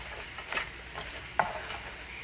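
Wilting vegetables seasoned with salt, pepper and garlic powder stirred in an oiled pan, two soft scraping strokes over a faint, quiet sizzle, close by with no talking.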